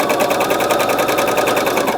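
A sewing machine stitches a French dart, running steadily with a fast, even mechanical chatter throughout, close and loud with no voices.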